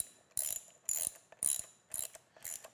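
A socket wrench ratchets as it tightens the nut on an expansion bolt, giving five short bursts of rapid metallic clicking with brief pauses between strokes, close and fairly quiet, with no talking.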